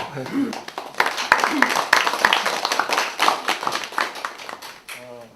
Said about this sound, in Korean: 우리 작가 선생님께 박수